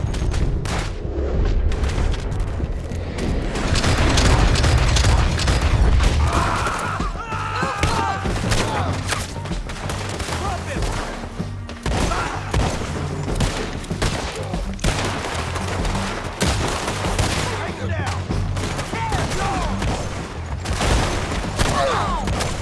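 Sustained gunfire from Red Dead Redemption 2, with dense overlapping shots and heavy booming thuds, loud and continuous throughout with hardly any pause.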